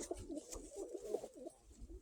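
A pigeon coos repeatedly in a loft of pure Mariupol pigeons, soft low rolling calls close by, with faint rustling and no talk.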